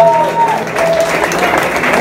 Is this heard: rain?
no